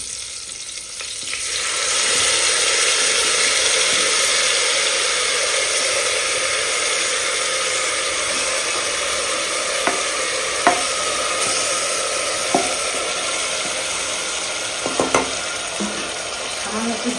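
Goat meat is added and stirred in a pressure cooker, a loud, steady sizzle that swells in after a quieter start and runs continuously, with occasional sharp clinks and scrapes of the spoon against the metal pot near the end.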